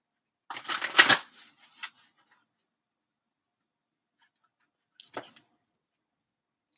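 Deck of chakra cards shuffled in a quick riffling burst near the start, then a short tap and a brief second flutter of cards a few seconds later, close and otherwise quiet.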